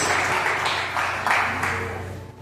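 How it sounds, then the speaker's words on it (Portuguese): Church congregation applauding during a worship service, a steady broad wash of clapping at moderate volume that holds for the whole stretch and slowly thins toward the end, with a low hum underneath. "Aplauda Jesus bem forte aí"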